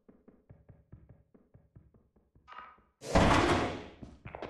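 A door swings open in the video game Lethal Company, with a creaking rush and a heavy thud following a run of soft rhythmic footsteps, close and loud.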